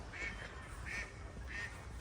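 Three distinct duck quacks, evenly spaced, ring out in a kindergarten play garden over a low steady outdoor hum, fairly close and clear.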